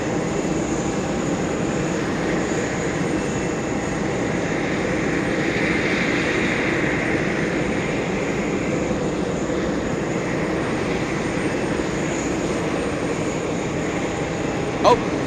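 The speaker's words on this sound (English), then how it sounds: "747-400. Leaving in spectacular fashion, a departure on 13 right." A Boeing 747-400 jet departing runway 13 right at John F. Kennedy International Airport, a steady, loud broadband engine roar held throughout with little change in level.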